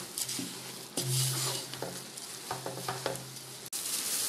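Beaten rice (aval) stirred in a pan for a Kerala sweet snack, a steady close scraping and rustling with light clinks of the spoon against the pan, alone without speech.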